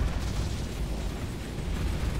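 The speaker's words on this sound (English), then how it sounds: "Oh, I love it when the ships get hit by torpedoes and mines and bombs." A continuous roar of explosions as torpedoes, mines and bombs hit ships in the space combat game Starsector. The low, rumbling blasts blur into one loud, steady wash without clear gaps.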